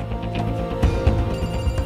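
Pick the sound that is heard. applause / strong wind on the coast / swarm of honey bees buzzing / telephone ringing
telephone ringing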